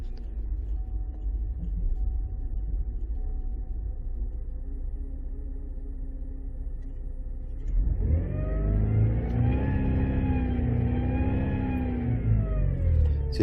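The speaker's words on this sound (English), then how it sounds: "start the vehicle." 2012 Chevy Traverse with reduced engine power and misfire faults, quiet at first, then its engine cranks and catches around the midpoint and settles into a steady, fairly loud idle with a rising hum.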